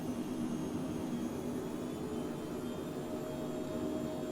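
Twin jet engines of a Phenom 100 spooled to takeoff power in Microsoft Flight Simulator 2020, a steady, loud, continuous roar and whine with no break.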